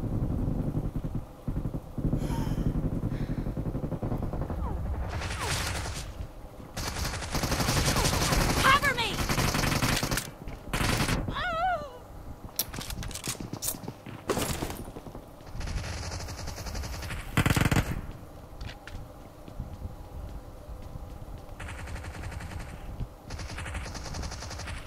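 Bursts of rapid gunfire from a video game team match ring out repeatedly, sometimes in long automatic volleys and sometimes in short cracks, over a steady bed of game noise and music.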